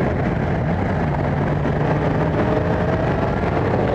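A Yamaha twin-cylinder motorcycle engine rumbles steadily at about 4,000 RPM as the bike pulls away, a loud continuous low drone with mixed road and wind noise and no talking.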